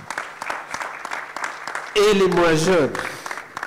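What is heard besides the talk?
audience applauding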